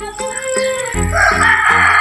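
A rooster crows loudly and close by on a free-range chicken farm, one long drawn-out call rising over quieter clucking and barnyard noise.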